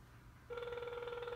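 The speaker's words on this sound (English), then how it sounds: "It's ringing. You hear it ringing now." A cell phone rings while sealed inside a 50 cal ammo can used as a Faraday cage, a steady electronic ringtone that starts about a third of the way in and repeats evenly, fairly loud against a quiet background.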